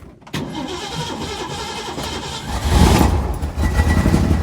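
A 1964.5 Ford Mustang convertible with a gummed-up carburetor cranks and catches, the starter whir quickly giving way to a loud, rough, uneven idle that swells and surges close by.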